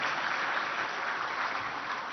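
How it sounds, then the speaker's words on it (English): Sustained round of applause at the opening ceremony of the 25th ICID Congress plenary in Visakhapatnam honouring irrigation projects, an even, dense wash of clapping with no speech. "Can we have a round of applause for these two projects, please?"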